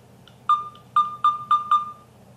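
A run of five short electronic computer beeps at the same pitch, spaced a bit unevenly, loud and clear over a quiet low hum.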